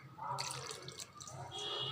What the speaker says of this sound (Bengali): একটু একটু করে পানি দিব আর মাখিয়ে নেব, একবারে সব পানি দিব না।